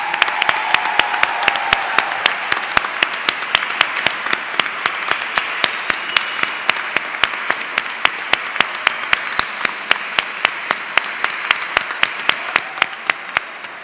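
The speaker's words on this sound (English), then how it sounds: "I invite all the other people in the room to congratulate them with a big applause" A room of people at a graduation ceremony applauds the graduates, steady crowd clapping with sharp individual claps standing out near the front, continuing throughout.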